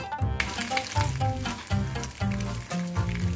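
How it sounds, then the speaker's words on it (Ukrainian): A chicken egg frying in a pan gives a steady close sizzle with crackling and popping, along with several low thumping bursts that repeat about every three-quarters of a second. "Жарю яйце так, щоб посередині був жовток."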